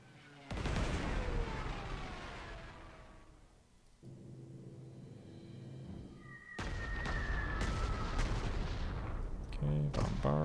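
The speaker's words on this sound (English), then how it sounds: "Alright, go bomb those guys." Artillery bombardment in the WWII strategy game Panzer Corps 2, a dense rumbling barrage of booming shots and blasts that dips briefly and then surges loud again with sharper reports near the end.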